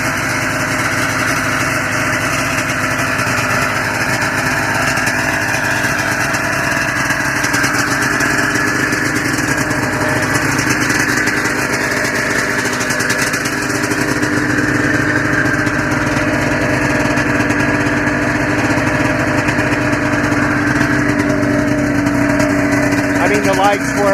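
A 1994 Ski-Doo Formula STX snowmobile engine idles steadily after a cold start, a loud, continuous buzzing drone that holds even throughout with no pauses or revs.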